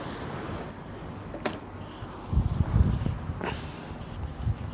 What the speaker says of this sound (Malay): Dengar berangin tu bunyi kipas kot.